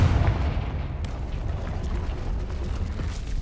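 A Confringo fire spell in Hogwarts Legacy bursts with a deep booming explosion at the start, then a long rumbling, crackling tail that stays loud and steady without speech.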